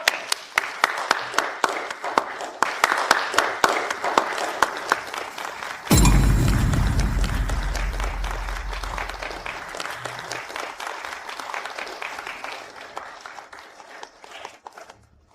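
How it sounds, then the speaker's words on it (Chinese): A sudden burst of audience applause at a formal business ceremony, loud and full at onset then gradually thinning into scattered clapping that fades toward the end, following a stretch of busy crowd noise. "大家掌声有请！"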